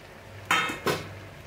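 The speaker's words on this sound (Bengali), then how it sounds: "এবারে এর মধ্যে বাকি ভাজা সবজিগুলো দিয়ে দেবো" A spoon or spatula scrapes and clanks twice against a pan while fried vegetables are mixed into a cumin-mustard paste. Two sharp metallic knocks come close together against a quiet background.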